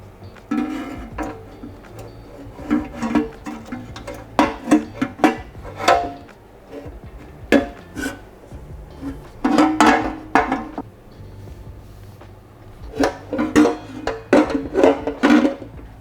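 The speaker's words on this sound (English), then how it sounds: "Now let's install the oil sump." Intermittent metallic clinks, taps and light knocks as an oil sump is fitted to a Renault 5 GT Turbo engine, in scattered clusters of close, moderately loud contacts with quiet gaps between.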